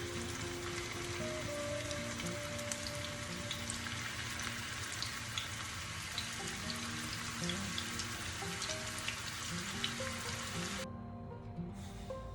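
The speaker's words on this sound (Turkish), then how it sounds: "hiç bekletmeden aynı şekilde orta ateşte köftelerimi kızartacağım" Meatballs fry in a pan over medium heat with a steady, dense sizzle and crackle, close and continuous, with faint popping, easing slightly near the end.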